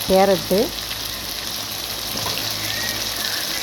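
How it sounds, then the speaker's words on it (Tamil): Onion with ginger garlic paste frying in a pan for a vegetable gravy, a steady hiss of sizzling oil that continues alone after a brief burst of talk at the start. "வெங்காயம் வதங்கினதுக்கப்புறம் நம்ம அதில் இஞ்சி பூண்டு விழுது சேர்க்குறோம். இது கொஞ்சம் நல்லா ஃப்ரை ஆனோடனே"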